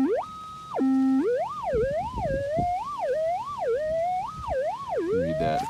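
A loud electronic tone from a metal detector over a 0.1 gram gold nugget warbles up and down in pitch over and over, with soft thumps and handling noise underneath.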